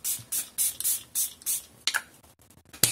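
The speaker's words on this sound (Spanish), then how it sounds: "el spray se ha vuelto súper imprescindible" A makeup setting spray is spritzed in a run of short, close bursts of bright hiss, about eight puffs in quick rhythm, with a couple of sharper final sprays and no talk.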